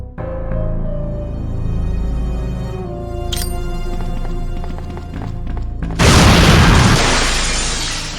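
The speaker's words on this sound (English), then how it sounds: "a dying Umbrella soldier used a grenade to destroy Nikolai" A grenade blast in a Resident Evil 3 Nemesis cutscene, set off by a dying Umbrella soldier to destroy Nikolai, erupts as a sudden loud burst of debris noise after several seconds of tense music, then slowly fades.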